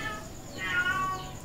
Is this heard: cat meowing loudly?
yes